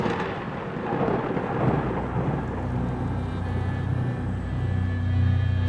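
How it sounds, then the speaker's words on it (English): Heavy thunder rumbles on without pause in a storm, a deep, loud roll that swells and thickens toward the end, with rain hiss blended underneath. "just the constant flashing of lightning and earth-shaking thunder"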